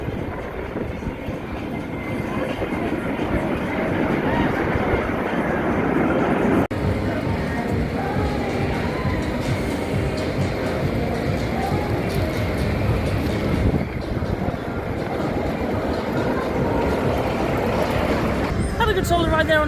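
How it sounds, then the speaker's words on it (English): Riding the Wacky Worm roller coaster at an amusement park, with a continuous loud rumble of wheels on track and rushing wind, while people talk. "on to another coaster now. It's going to be the Wacky Worm."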